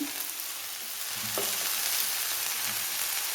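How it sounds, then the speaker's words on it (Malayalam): Taro leaf and coconut stir-fry is stirred in a pan, with a constant bright sizzle and a couple of soft scraping strokes of the spoon, close and alone. "ഇനി ഇതൊന്ന് ഇളക്കി കൊടുക്കാം. ഇളക്കി തട്ടിപ്പൊത്തി വയ്ക്കാം."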